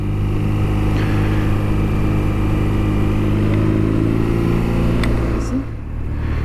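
A BMW R nineT Urban G/S motorcycle with a Euro 5 boxer engine runs loud and close, holding a steady, deep throb with a slight swell partway through and a brief dip near the end.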